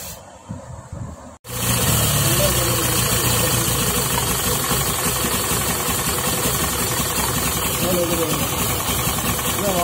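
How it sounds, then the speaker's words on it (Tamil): A Honda Dio scooter engine, freshly reassembled after being found in non-running condition, starts up and runs steadily with a loud, close, buzzing idle and slight knocking vibration, after a brief quieter moment at the start. "வண்டி ஓடிக்கிட்டு இருக்கு"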